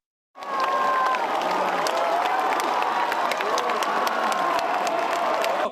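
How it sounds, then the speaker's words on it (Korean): A large crowd at a Democratic Party gathering bursts into loud applause and cheering that starts abruptly from silence and holds steady, with shouts rising over the dense clapping. "큰 박수로 격려해 주시기 바랍니다"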